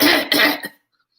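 A person coughs loudly and close up, two or three quick harsh bursts over less than a second, followed by silence.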